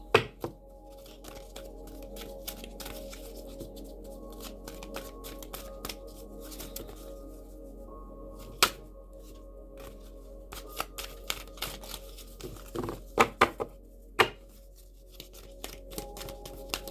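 Tarot cards are shuffled by hand at close range, making repeated crisp riffles and snaps of varying strength over a faint steady hum, with no speech.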